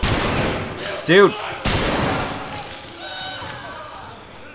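Slow, spaced gunshots from a firearm in The Last of Us Remastered, in a sewer, two sharp broadband cracks standing out among game sounds while a man exclaims briefly.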